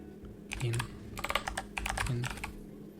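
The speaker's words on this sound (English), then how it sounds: "let's type something like" Close-up keystrokes clatter on a computer keyboard in quick bursts separated by short pauses. The room is quiet, with only a faint low hum in the background.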